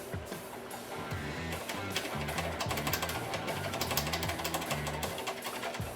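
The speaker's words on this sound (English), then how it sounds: "Now I just need to go through and tack it in a couple spots." Tack welding a patch into the rusty rear frame of a 1970 Challenger, with a steady buzzing, rapidly pulsing crackle that holds continuously and close for several seconds.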